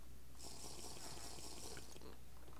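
Water pours steadily into a bottle at a well in Minecraft, a continuous splashing fill lasting a couple of seconds, fairly faint and alone.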